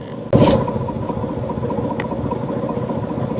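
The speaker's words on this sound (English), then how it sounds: "That is the sound of a pushrod V12 idling." A deep, loping pushrod V12 engine idle in a video game rumbles steadily and close after a brief starting clatter, its uneven throb continuing alone.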